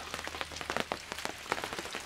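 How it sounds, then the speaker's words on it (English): Rain falls at a campsite, pattering quietly with dense, irregular drops striking a nearby surface across the whole stretch. "it is raining."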